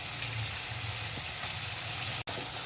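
Tomatoes tipped into a pan of frying onions give a steady, close sizzle with a faint watery crackle, continuous throughout with no voices.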